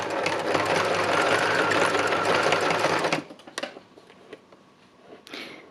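A sewing machine runs steadily for about three seconds while top stitching, a loud close whir that cuts off abruptly, followed by a few quiet clicks and handling sounds.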